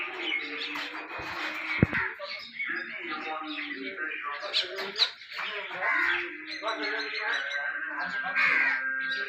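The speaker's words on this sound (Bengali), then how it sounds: "প্রচুর পরিমাণ পাখি আছে" Crows caw repeatedly in harsh, overlapping calls from a large flock perched up on tin roofs, fairly close and loud, with other birds chirping in the mix.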